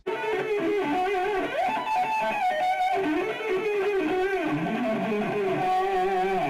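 Electric guitar lick with quick, sliding notes climbing and falling across three octaves, played steadily and fairly loud without talking.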